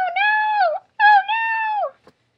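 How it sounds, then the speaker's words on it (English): A dog whimpers indoors in two long, high whining cries with a short gap between them. Each whine is close and clear, and there is a faint scuff at the end. "See, we have a cute dog in ours too"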